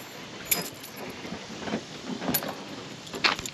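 Keys jangle outdoors beside a local fishing pond, faint scattered metallic chinks over a low background hiss, with no talking.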